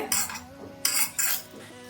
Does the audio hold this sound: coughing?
no